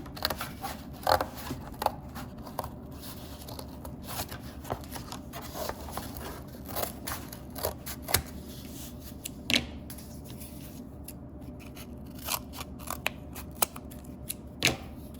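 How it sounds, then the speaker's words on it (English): Scissors cutting through corrugated cardboard, a steady run of crisp snips and scraping crunches close by, with no talk. "So I want you to cut a piece of cardboard again."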